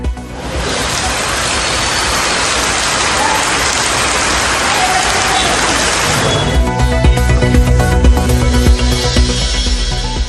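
Heavy rain pours steadily in a Tiruchendur Shiva temple, a sub-shrine of the Subramaniya Swamy temple, where rainwater has flooded inside. It is a loud, dense hiss throughout, and a deeper rumbling wash of water and tonal background sounds joins in for the last few seconds.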